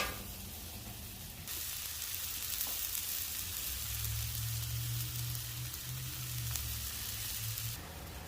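Food sauteing in a pan for Wisconsin butter burgers, a faint steady hiss and fine crackle that swells slightly and runs on alone.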